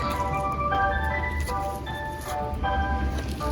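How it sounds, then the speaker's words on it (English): An ice cream truck passing by outdoors plays its tinkling, repeating melody loudly and steadily over a low rumbling engine and street noise. "Sorry, ice cream truck passing by."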